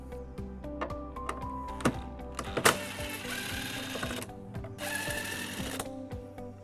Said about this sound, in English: We're going to remove both of the bolts on here using a 10mm socket.